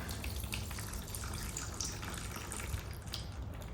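Water-contaminated oil drips from the seized turbocharged 5.3 engine of a burnout truck, a faint, close, steady trickling and dripping of liquid with no talking.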